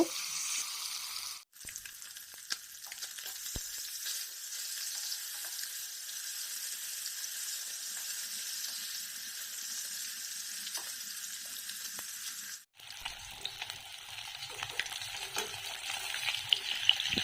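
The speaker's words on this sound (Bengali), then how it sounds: "এভাবে ভালো করে এপিটুপুট করে মাছগুলো ভেজে নেব" Rohu fish pieces frying in hot oil in a kadai give a steady, dense, close hiss that runs unbroken for long stretches, cut off twice by brief dropouts, with faint scattered clicks and no talking.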